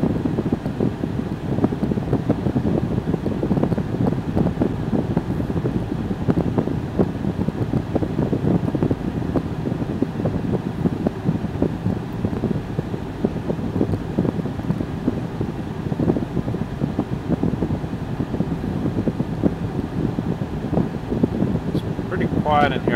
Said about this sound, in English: I do hear some tire noise.